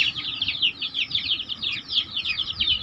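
A group of chickens clucking and chattering continuously nearby, busy overlapping calls with no talking.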